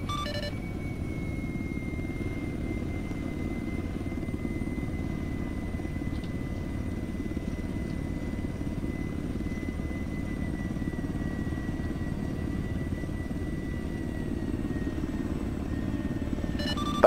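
A video game helicopter's steady rotor drone and engine rumble hold constant and loud throughout, with no other sounds breaking through.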